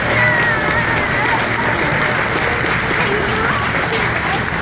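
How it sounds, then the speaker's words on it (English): A crowd applauds family members at a Publix grocery store opening night in San Marco, a loud continuous wash of clapping with scattered cheers and voices underneath. "Let's give them another round of applause."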